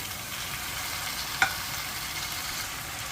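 Chopped large tomatoes added to frying onions in a pan give a steady soft sizzle, with one brief clink of a utensil midway and no speech.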